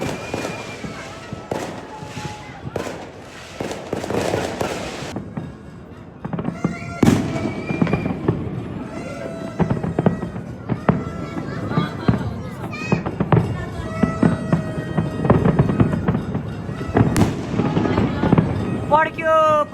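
New Year fireworks and firecrackers burst again and again in dense, sharp volleys, some near and loud, some farther off, with people talking and shouting among the explosions.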